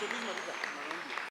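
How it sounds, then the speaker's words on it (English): Applause for Kenya's Harambee Stars national football team at State House, Nairobi fills a brief moment, a dense steady clapping from a crowd with faint voices mixed in. "Round of applause for Harambee Stars."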